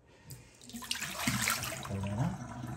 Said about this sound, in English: So we're going to go ahead and slowly pour in the water.